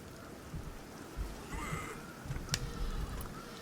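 Rain falls steadily on a battlefield in the strategy game Shogun: Total War, a faint, even patter throughout with a brief sharp crack partway through.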